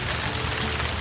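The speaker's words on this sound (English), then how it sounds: "It's raining." Steady rain pattering on a surface, a dense, even hiss with no other sounds.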